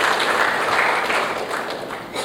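Conference audience at Air Cargo India 2016 applauds in a dense, steady wash of many hands that fades slightly near the end.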